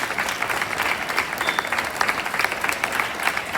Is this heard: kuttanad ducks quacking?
no